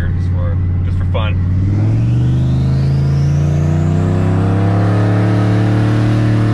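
Turbocharged 5.3L Yukon V8 revving on a dyno, a low rumble rising steadily in pitch and loudness as the engine climbs, close and continuous, with a voice briefly speaking near the start.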